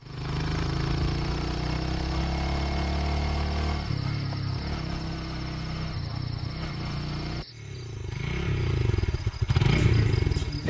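A motorcycle engine runs with a steady idle hum, cuts briefly, then restarts and revs up with rattling bursts near the end, alongside a constant high insect-like chirr.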